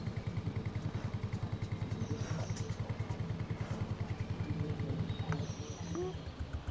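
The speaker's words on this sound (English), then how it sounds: "and it is a great little tractor" A vintage Porsche tractor in the Farming Simulator 25 game runs with a steady, rapid low engine putter, close and continuous throughout with faint clatter on top.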